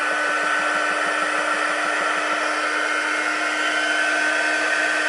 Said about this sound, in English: So I very slowly use my heat embosser.